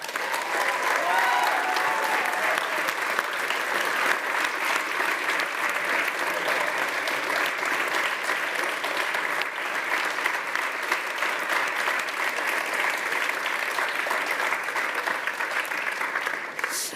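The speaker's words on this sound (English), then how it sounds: "Please join me in giving a huge congratulations and a very big round of applause to" Sustained applause from a live audience at a startup pitch demo day for the first-place winning team, dense and steady clapping throughout with no breaks, fading slightly at the very end.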